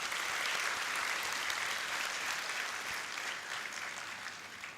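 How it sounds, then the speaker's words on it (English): A large crowd applauds during a 2025 graduation ceremony for architecture students, a dense even wash of clapping that holds steady and eases slightly toward the end. "Let's put our hands together for a round of applause."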